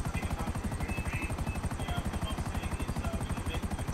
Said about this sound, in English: Luckily, this chopper is not smoking though.